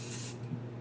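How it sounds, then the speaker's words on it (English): Spray bottle misting into each of eight holes in a homemade craft or baking mold, one steady close hiss of fine spray lasting under a second with a brief flutter near the end. "So we're going to spray each hole just enough."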